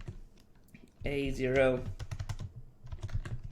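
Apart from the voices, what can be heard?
typing on a computer keyboard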